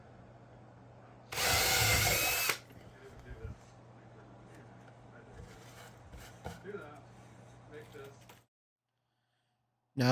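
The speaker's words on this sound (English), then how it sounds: "install these, drill me some holes in here." A power drill boring holes in a wooden transmission line speaker box gives one loud burst of about a second, then quieter handling and rustling noises before a silent gap.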